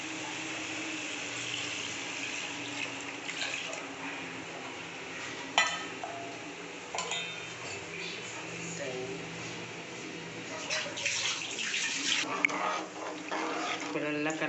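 Tamarind and chili powder mixture poured into a hot pan of egg gravy, a steady watery rush with a faint sizzle and a few sharp clinks of a utensil, close and continuous.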